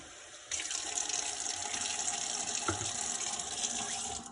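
Water pours steadily into a spicy cashew sauce for chicken, a continuous close splashing gush that starts abruptly and runs alone without talk.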